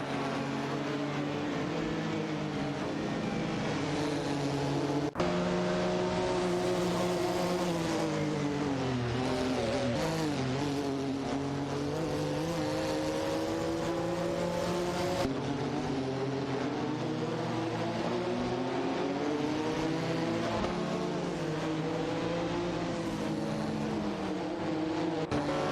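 Racing engines from an AI racing video game, a McLaren F1 GT and a Porsche 911 964 Turbo 3.6, drone loudly and continuously, with pitch rising and falling through shifts and revs.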